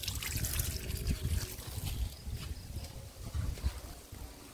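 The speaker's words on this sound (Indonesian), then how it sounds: "Nyalain air" Water splashes and trickles steadily, with low rumbling gurgles throughout, fairly close and continuous.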